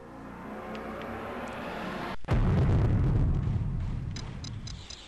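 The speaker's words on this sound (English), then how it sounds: "Explosions in space." A sudden booming blast from a space explosion in the video game Escape Velocity: Nova cuts in after a brief silence, rolling into a roaring rumble that slowly fades, with faint electronic chirps near the end.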